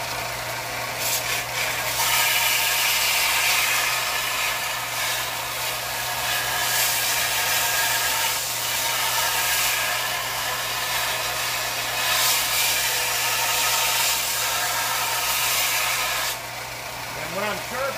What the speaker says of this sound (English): When I'm sharpening it, I'm doing it edge up so that I don't create a big burr on the backside